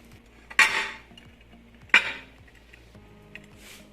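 Utensils clatter against a pan and dish as Chinese-style fried rice is served out, two sharp metallic scrapes and clinks close by with a fainter tap and rustle afterward, no talking.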